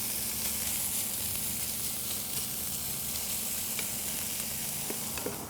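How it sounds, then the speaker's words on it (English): Half a pound of diced bacon sizzles in a Lodge 12-inch skillet over medium heat, a dense, even crackling hiss that holds steady throughout with no voices. "we've got the Lodge 12-inch skillet heated up here over medium heat. I'm going to add a 1/2 pound of diced bacon."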